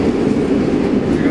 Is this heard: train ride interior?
yes